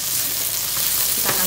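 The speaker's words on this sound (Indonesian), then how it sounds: "Tumis bawang merahnya ini sampai aromanya" Shallots frying in a pan for Padang gado-gado, a loud, dense continuous sizzle with a brief stirring scrape near the end, close and without voices.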